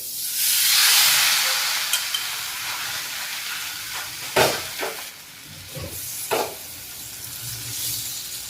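Thalipeeth cooking on a pan with a little oil drizzled over it, giving a soft steady sizzle and hiss, broken by a few brief knocks and clatters from handling the pan.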